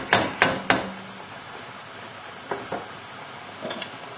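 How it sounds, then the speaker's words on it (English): A utensil clacks three times sharply against a pan of chicken sauce, then softer scraping taps follow over a quiet background simmer as the sauce comes back toward the boil. "Just give it a nice stir together, just making sure that any bits stuck to the bottom of the pan come off"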